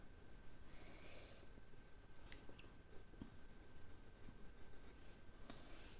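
Derwent ivory black pencil drawing on paper, a soft continuous graphite-like scratching and shading texture, close and quiet, with a few faint taps and no talk.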